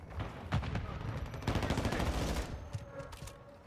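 Dense, rapid gunfire from the video game Modern Warfare 2 keeps going almost without a break, loud bursts stacking on each other, with a faint voice underneath.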